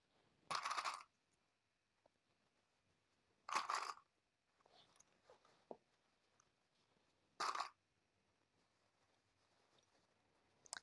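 Sewing clips snapped onto folded binding on a fabric sling bag, three sharp bright clicks spaced a few seconds apart, close and crisp over quiet handling sounds, with no talking.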